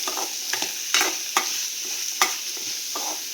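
Yellow pumpkin pieces are stirred and sautéed in a pan, a steady sizzle with repeated scraping strokes of a spoon against the pan at a loose rhythm, close and fairly loud with no talking.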